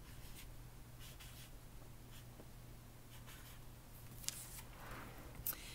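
Pencil scratches on paper in short, soft strokes with brief pauses between them, close but faint over a low steady background hum, with no speech.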